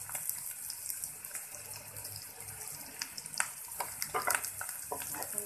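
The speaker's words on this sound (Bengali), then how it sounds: "এখন একটু একটু আমি নাড়তেছি" Onion and boiled rohu fish roe frying in oil while being stirred a little at a time, a continuous close sizzle with intermittent scraping clicks and no speech.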